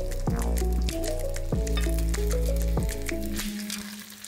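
Oil sizzles and crackles as a burger bun browns on one side in a pan, steady throughout, with background music playing underneath.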